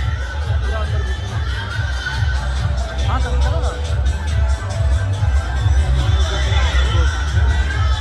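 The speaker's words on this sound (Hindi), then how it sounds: "भीड़ देखे छै ना कते छै" A large, dense crowd at a Kali Puja fair in Dhanga, with a continuous loud outdoor hubbub of many voices and shouting children, while someone talks close by.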